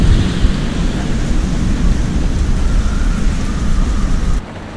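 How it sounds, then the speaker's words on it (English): Heavy, continuous wind and rain roar loudly against a sailboat moored in harbour, a dense, close wash of noise that cuts off abruptly near the end. "We've been in harbour for 3 days now, and literally it hasn't stopped blowing or raining."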